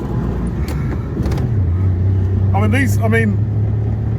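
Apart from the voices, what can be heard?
two-stroke car engine started with key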